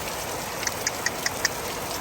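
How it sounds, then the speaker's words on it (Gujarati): A heavy downpour pours over a town in Patan, Gujarat, a loud continuous hiss with a few sharp taps and a faint engine hum beneath. "તમે જોઈ શકો છો જો પાટણમાં ધોધમાર વરસાદ"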